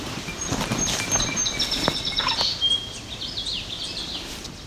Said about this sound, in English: So we appear to have yellow warbler above us, making all that sound.